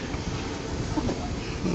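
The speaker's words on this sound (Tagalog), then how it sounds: "Andito kami sa LRT station, Guadalupe." Rumbling rail noise from an LRT train at Guadalupe station, a steady broadband roar with faint clatter heard nearby, no talking.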